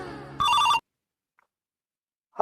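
Short electronic phone ring: a bright tonal burst that cuts off abruptly, then near silence before a faint start of another ring at the end.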